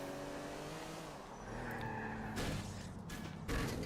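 A car in Grand Theft Auto IV runs with a steady engine drone, then its handbrake is yanked and the tyres squeal and skid in short bursts near the end, moderately loud with no voices.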